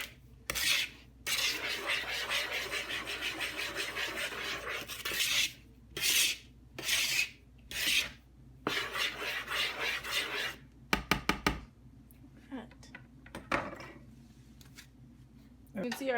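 Yeast, a quarter cup of sugar and half a teaspoon of salt are mixed together in a bowl for cinnamon roll dough, giving repeated gritty rubbing and scraping bursts with brief pauses, interrupted by a few sharp clicks near the end.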